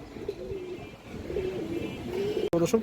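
A pair of cream-eyed Indian highflyer pigeons cooing softly and repeatedly close by, low and rounded, with a brief rustle near the end.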